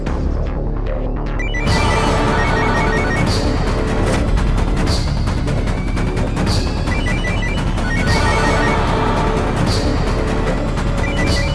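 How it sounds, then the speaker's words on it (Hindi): A phone rings nearby in loud, regularly spaced bursts over a dense, busy backdrop of dramatic music. "बेल तो जा रही है।"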